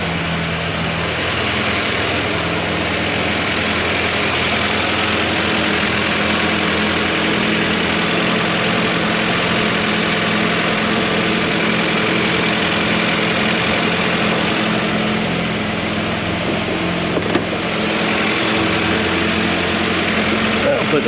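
A 1955 Willys Jeep CJ5 engine idles steadily for the full stretch, a constant close, loud rumble with an even low hum and no change in speed, with faint voices mixed in underneath.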